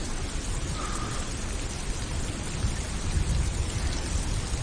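Steady rain pours down in a thunderstorm, a dense continuous hiss with low rumbling swelling toward the end, no voices heard.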